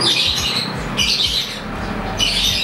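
A bird gives repeated loud, harsh squawks in three bursts, close and dominant over a steady background hum.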